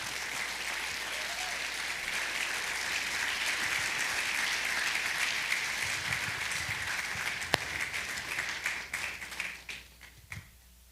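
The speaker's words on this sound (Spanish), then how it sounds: "yo quiero que usted lo reciba con un fuerte aplauso al pastor Darío Parish" A church congregation applauds to welcome pastor Darío Parish, steady clapping that holds for several seconds and then thins out into a few scattered, isolated claps near the end.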